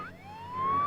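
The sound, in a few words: ambulance siren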